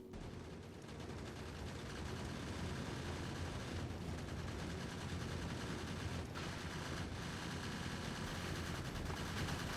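Dense, continuous automatic gunfire from defensive turrets in the factory-building game Factorio, a loud steady barrage of rapid shots filling the whole stretch with no pauses and no voices.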